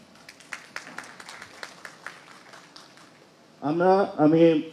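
A room of people at a gathering claps together, a loose burst of separate hand claps for about three seconds that fades out before a voice begins speaking.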